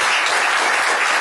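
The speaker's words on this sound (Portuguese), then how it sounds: "Uma salva de palmas para vocês." Audience applause at a psychologist's talk at Expolivro: a dense, steady wash of many hands clapping together, loud and close, holding evenly for its whole short length with no voices over it.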